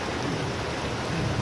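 Heavy rain pours steadily during a fishing outing, a dense, even hiss of drops beating on surfaces and water, constant and close with no pauses.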